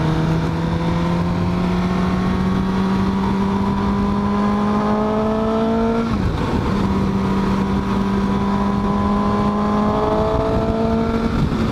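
A 2018 Suzuki GSX-S750 motorcycle accelerates hard, its engine note climbing steadily, dropping briefly at a gear change, then climbing again, loud and continuous with wind noise.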